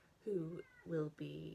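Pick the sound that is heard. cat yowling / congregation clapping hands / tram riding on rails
cat yowling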